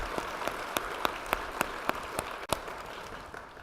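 A conference audience at the NANOG 73 opening gives quiet, distant applause, with evenly spaced claps standing out over a soft patter.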